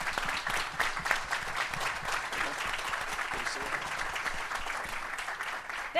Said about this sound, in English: if you're a veteran in the room, if you could stand up, I want to give you a round of applause